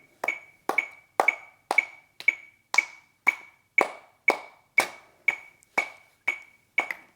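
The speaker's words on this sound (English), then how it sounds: "this metronome, clap your hands to that" Steady metronome clicks ring out at an even tempo, each sharp tick paired with a handclap landing roughly together, about two per second, close and clear with no talking.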